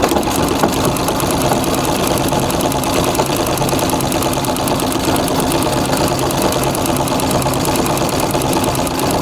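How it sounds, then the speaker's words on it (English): Treadle sewing machine stitching during free motion quilting, a continuous fast mechanical chatter with an even rapid rhythm, steady and fairly loud with no talk. "this is a treadle machine that I'm using, so the speed is regulated by how fast I pump my feet to make that machine run"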